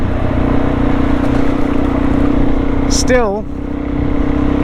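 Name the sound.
motorcycle engine during an adventure ride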